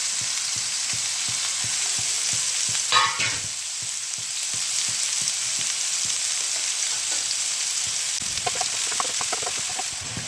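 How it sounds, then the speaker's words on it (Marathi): Onion frying steadily in a pan with mustard seed powder, a continuous close sizzle broken by regular scraping stirs, with a brief louder crackle burst partway through and no talking. "हा कांदा चांगला पैकी भाजून घेणार आहे"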